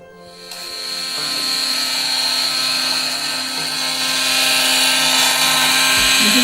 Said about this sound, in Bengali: আমি এটা ব্লেন্ডার নিয়েছি, ইলেকট্রিক ব্লেন্ডার, সেটাই আমি এবার